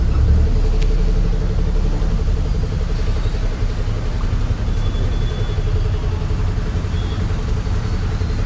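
Road traffic moves along a rain-flooded street in Ludhiana, Punjab: a steady, loud rumble of car and truck engines close by, continuous, with an idling drone underneath.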